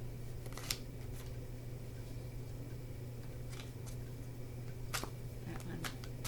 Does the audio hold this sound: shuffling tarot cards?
yes